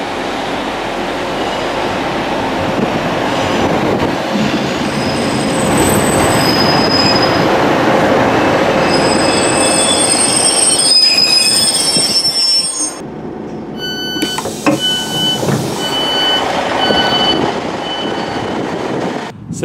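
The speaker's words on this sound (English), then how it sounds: "I'm actually waiting for the 1148 Northern service to take us to Fitzwilliam." A Northern service train pulls into Fitzwilliam railway station on the Wakefield line, its wheels squealing loudly and steadily along the rails with rumbling carriages, shrill tones rising toward the end as it slows. No one speaks.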